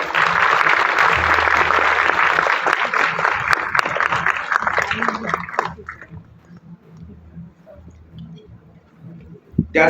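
An audience claps loudly and steadily for several seconds in a city auditorium before the applause fades into scattered claps and quiet room noise.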